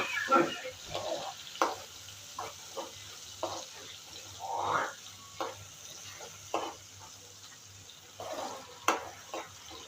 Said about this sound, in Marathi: हा भात असा फ्राय करून घ्यायचा